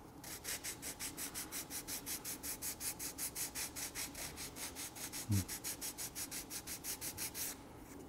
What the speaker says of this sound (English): This is the trailing edge we're sanding now.